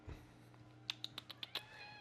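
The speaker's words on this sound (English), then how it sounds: "Let me show you guys my cat." A pet cat gives a series of about six short, clear meows in quick succession, close to the mic over a quiet room hum, with no talking.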